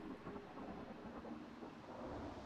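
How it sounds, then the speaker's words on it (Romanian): Thunderstorm in the Gas Station Simulator video game, a steady, dense wash of rumbling thunder and rain-like hiss that fills the whole stretch without pause, with no talking over it. "Iară vine furtuna. Nu spune că mai vine o furtună."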